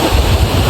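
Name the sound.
flowing water heading to a waterfall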